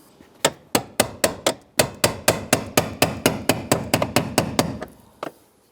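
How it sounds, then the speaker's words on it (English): A hammer strikes a brass punch to seat the fuel pump lock ring on a 2005–2010 Chrysler 300 fuel sending unit: about sixteen sharp, close metallic blows in a fast, even rhythm, then one final tap. "let's go ahead and grab our brass punch and our hammer. And let's go ahead and continue to seat this."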